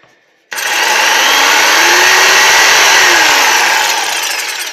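A TechAS electric jigsaw starts abruptly and runs at full speed, a loud, harsh, buzzing whine held steady for several seconds with a slight pitch waver, close to the listener.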